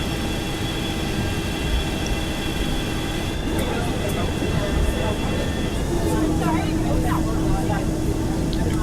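A simulated Boeing 737-200 taxis in X-Plane 11, giving a steady, continuous engine whine and hum with low rumble throughout, broad and even in level, with a faint higher tone emerging near the end.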